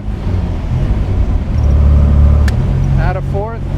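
A 1967 MG B Roadster convertible engine on the open road, with a steady loud rumble that swells, drops and rises again as it works up through the gears into overdrive, and someone talking over it.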